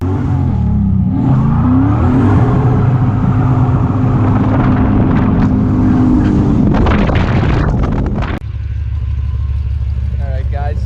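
The 6-liter engine in a 2006 GMC Canyon runs loud and close, with a steady low rumble that rises and falls as it revs, then drops to a quieter idle near the end.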